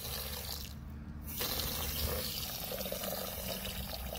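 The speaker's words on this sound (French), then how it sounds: "on ajoute de l'eau à l'argile." Water pours from a tap into clay for a mould-making slip, a steady close splashing and trickling stream that briefly pauses and then resumes fuller until the end.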